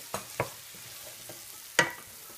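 Diced yellow squash is stirred into chorizo in a pan, giving a few soft scraping clicks over a faint sizzle, close and quiet, with no voices.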